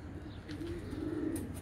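Pigeons coo nearby after being given feed, low throaty rolling calls rising twice over a soft outdoor background, with a faint higher chirp near the end.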